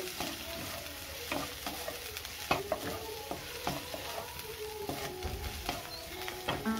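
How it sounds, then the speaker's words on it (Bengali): Chickpeas fry with chili powder in a pan over low heat, a soft continuous sizzle broken by repeated scraping strokes of a spoon stirring them, close and fairly quiet. "লো আঁচে আমি প্রায় 1 মিনিটের মতো ভেজে নিচ্ছি।"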